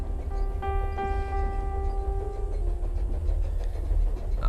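A train travels steadily in the video game The Charnel House Trilogy, with a low continuous rumble and rhythmic rail clatter, joined partway through by a sustained whistle-like tone that fades.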